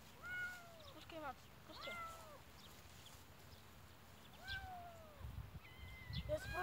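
Kitten meowing repeatedly in short, rising high cries, several in quick succession, close and fairly clear, with someone speaking at moments between the meows.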